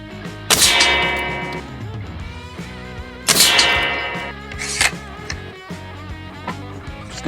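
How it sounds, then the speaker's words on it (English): Two sharp, loud shots from an Umarex Octane Elite .22 air rifle, each a sudden crack followed by a short ringing decay, spaced about three seconds apart, with a softer click in between. "Going to do about 5 shots through it and see how it's grouping."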